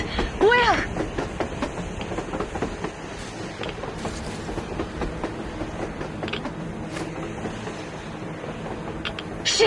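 A train rolls along on the surface in the video game Metro Exodus, a steady rumbling clatter that stays under the other game sounds for the whole stretch, with a few sharper tones near the start.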